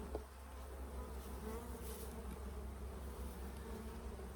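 Honey bees swarm around an open beehive frame, giving a continuous close buzzing hum with no other sound.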